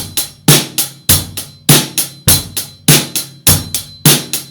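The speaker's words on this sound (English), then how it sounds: "The drum beat sounds like this." Rock drum kit playing a beat: a steady, punchy groove of bass drum kicks and sharp snare hits repeating in regular bars, loud, close and alone with no talk.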